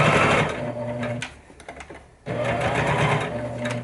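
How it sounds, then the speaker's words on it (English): A sewing machine stitches fabric for an Easter bag, running loud and steady, pausing briefly for a quieter stretch of small clicks, then starting up again at full speed with no voices. "What I usually do is sew this stitch and then stitch back over it as I join it and meet it on the other side."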